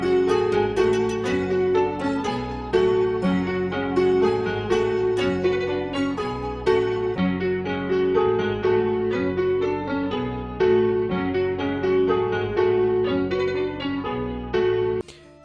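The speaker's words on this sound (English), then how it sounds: "And with the effects, the melody sounds like this." Dark sampled melody made in FL Studio with chorus, vinyl, EQ and delay effects plays on its own: layered bell-like and plucked tones in a steady repeating phrase, full and continuous, cutting off at the end.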